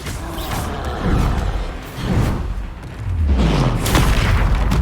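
Bombarda blasting spells explode in Hogwarts Legacy, with several loud booming blasts spaced a second or so apart amid battle noise, the last ones heaviest.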